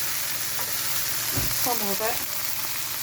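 Butternut squash sizzles and crackles steadily in a frying pan, a close, continuous hiss, while someone briefly speaks over it.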